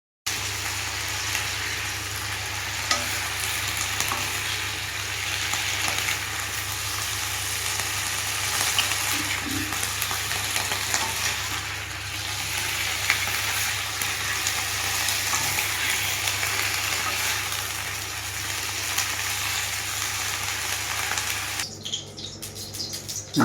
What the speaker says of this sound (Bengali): আলু ফুলকপি ভাজা হয়ে গেছে, খুব সুন্দর করে ভেজেছি